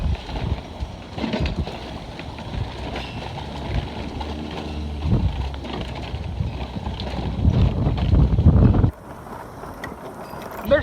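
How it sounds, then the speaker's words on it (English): Wind buffets the microphone of a car on a daytime city drive, a continuous low rumbling roar that swells toward the end before suddenly easing off. "Sorry, there's a lot of wind."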